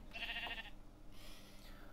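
Sheep bleating in Minecraft, a blocky game animal voice: one wavering bleat in the first half, fairly loud and clear, followed by quieter ambient game sound.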